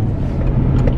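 A car on the road passing close by, a steady loud engine and tyre rumble filling the whole second with no talk.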